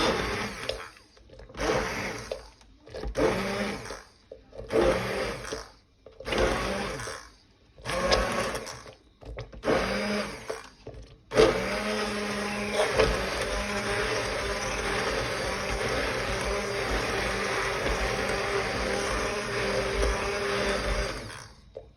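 A handheld immersion blender churns a pot of slow cooker apple butter, first in a series of short pulsing bursts, then in one long steady whir up close.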